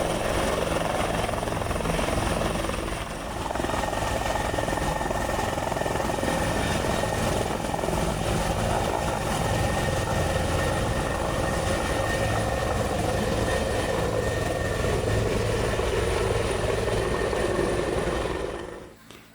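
A helicopter flies training exercises close by a parked campsite in Tuscany, its steady loud rotor drone filling the whole stretch without a break before cutting off at the end.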